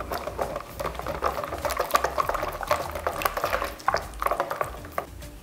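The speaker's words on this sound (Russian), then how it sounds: "и снова перемешиваем" Dough liquid with vegetable oil is whisked in a bowl, a rhythmic wet sloshing and clicking of the utensil against the sides, close and fairly loud, with no speech.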